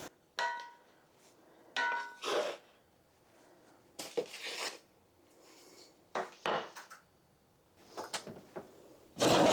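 Homemade pizzas being taken out of a home oven, a series of short wooden and metallic knocks, clatters and sliding scrapes from the oven rack and pans, separated by near silence.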